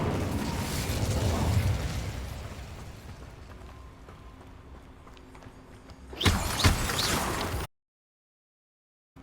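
A burst of flame from the Incendio fire spell in Hogwarts Legacy whooshes in loud and close for about a second, then cuts to silence, after a stretch of rumbling game ambience.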